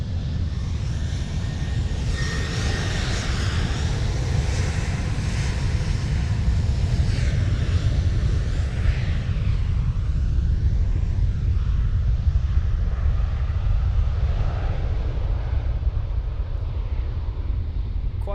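Jet airliner engines at Amsterdam Schiphol make a heavy continuous rumble and roar that swells and slowly fades toward the end, with wind buffeting the microphone.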